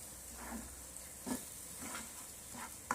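Red chili powder stirred into a raw mango curry sizzling in a pan, a soft steady hiss broken by a few faint scraping strokes of the spoon, quiet and close.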